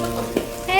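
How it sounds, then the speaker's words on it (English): Spring onions stir-fry with scrambled eggs in a pan, a close, steady sizzle lasting under a second with a light scrape of stirring. "So now add the spring onions and stir again."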